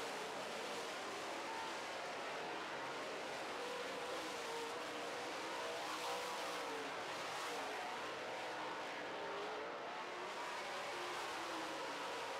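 Late model race cars roar around a speedway in a steady, continuous engine drone, several cars blending into one sustained racing wash heard from a distance without talk.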